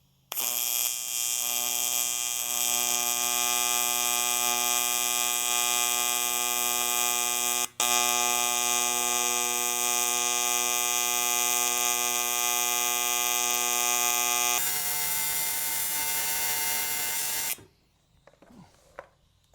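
A budget AC/DC TIG welder holds a steady arc with pulse switched off, giving a loud continuous electrical buzz with one brief break, then a change in tone before the arc cuts out near the end.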